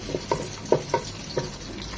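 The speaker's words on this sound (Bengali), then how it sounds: "এখানে দিয়ে দিব একটা বড় সাইজের পেঁয়াজ কুচি পেঁয়াজটা নরম হবে" Chopped onion frying in oil with whole spices for hilsa pilaf, a steady sizzle broken by soft stirring clatters at close range, with no voices.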